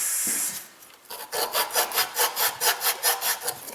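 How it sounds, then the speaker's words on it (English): Emery cloth scrubs burrs off a metal part during a rear A/C block-off installation, rapid back-and-forth rasping strokes in a steady close rhythm after a brief opening rub. "Get those little burrs out there."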